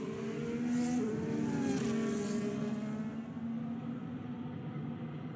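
Race cars lap the Abu Dhabi circuit in a sim racing video game, engines whining and shifting pitch as they pass, heard as a moderately quiet continuous background drone without talk.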